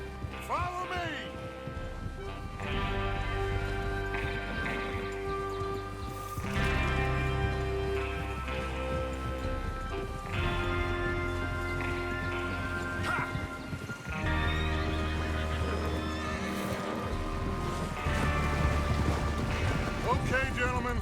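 Horses moving in Red Dead Redemption II, with clip-clop hooves and an occasional neigh beneath a steady bed of game music and ambience, continuous throughout, with people talking at times.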